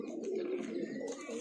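Highflyer pigeons coo softly in a continuous low, throaty murmur, close by, with a faint chirp near the end.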